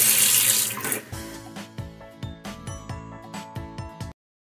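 Tap water gushes into a household kitchen sink, a loud broadband rush at first that gives way to rhythmic splashing and clinking pulses, then stops abruptly near the end.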